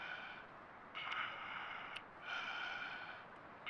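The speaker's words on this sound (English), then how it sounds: "Creepy breathing." Creepy breathing over a phone line: slow, raspy inhales and exhales in a repeating rhythm, each breath a hissy swell separated by quieter pauses, faint and close with a thin, filtered quality.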